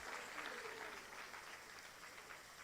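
Audience applause for entrepreneurs at a university entrepreneurship festival pitching event, a steady wash of many hands clapping from a crowd, fairly faint and even throughout without a break.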